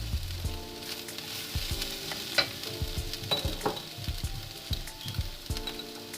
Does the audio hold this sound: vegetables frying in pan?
yes